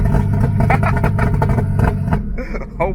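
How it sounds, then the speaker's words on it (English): A turbocharged BMW E36 idles and revs loudly nearby, its exhaust burbling and crackling in a steady, rough rumble that dips briefly near the end, with people talking over it. "that's a crazy burble"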